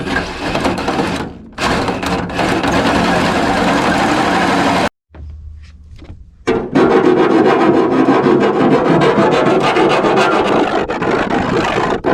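A worn hand saw with missing teeth cuts through wood with loud, continuous rasping strokes, broken by a brief pause and a short quieter stretch before the sawing resumes at full strength.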